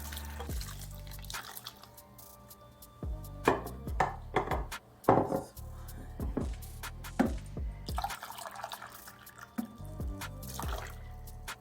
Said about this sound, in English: And just rinsing off the grater.